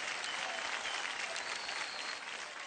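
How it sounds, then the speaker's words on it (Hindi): Steady, dense applause from a large audience at a Bhojpuri award show, sustained and loud throughout with no break, greeting two superstars on stage. "जोरदार तालियां हमारे दोनों सुपरस्टार्स के लिए"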